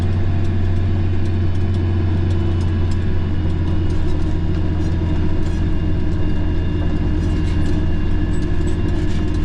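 A tractor engine runs steadily while seeding a field along a coulee in Montana, a loud continuous low drone with a constant hum and no pauses throughout.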